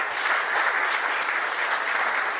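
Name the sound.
audience applause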